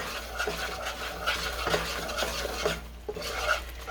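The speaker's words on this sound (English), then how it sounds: "You do want to keep stirring it so it can bubble over and it doesn't burn" Butter and salt for salted caramel are stirred in a gigantic pot. A spoon scrapes in a steady, repeated rhythm, about one stroke every second, with faint bubbling underneath and nobody talking.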